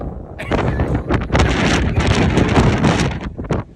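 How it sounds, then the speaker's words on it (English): Loud, gusting wind at a hilltop hotel in Mexico roars across the microphone, buffeting and rumbling continuously with surges of turbulence throughout. "Could this be the windiest hotel ever?"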